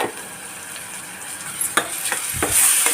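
A tomato rice mixture with salt sautéing in a pan, a close, even sizzle with several quick scraping stirs toward the end and a brief metallic clink, no one talking.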